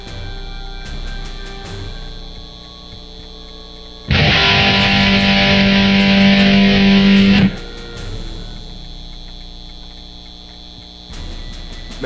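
A distorted rock song in the Back to the Future video game, playing through a loud, humming, overdriven amp in a burst of about three seconds, set between quieter stretches of buzzing mains hum.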